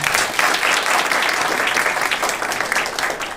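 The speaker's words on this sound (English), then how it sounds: "let's give them a round of applause" A crowd at a women's career fair claps for honorees, producing a steady, full roar of applause from many hands, close and even in loudness from start to finish, with no voices over it.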